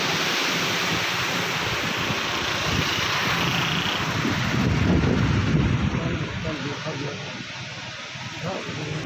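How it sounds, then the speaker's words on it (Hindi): Fast water rushes loudly beneath a bridge, a dense continuous roar that swells slightly midway, heard close and alone without speech. "तो बड़ा तेज पानी यार"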